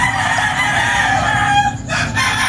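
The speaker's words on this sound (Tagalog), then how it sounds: "Ang ingay ng mga manok. Nag-contest yung mga manok dito" Several roosters crow loudly and repeatedly nearby, their calls overlapping in a steady, noisy chorus with no talking.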